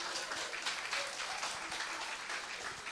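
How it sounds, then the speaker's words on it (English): Audience at an industry–academia panel discussion applauding, a steady wash of many hands clapping that holds evenly throughout. "I appreciate you clapping"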